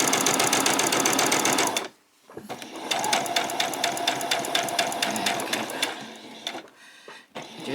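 A sewing machine runs a back stitch along a skirt seam, its needle chattering in a fast steady rhythm, pausing briefly, then starting again and stitching on at close range with no talking.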